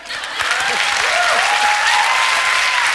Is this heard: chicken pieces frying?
no